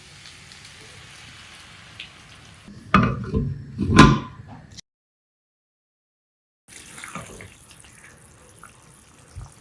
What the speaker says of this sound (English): Now we're going to add enough water. Adding in about a cup of water,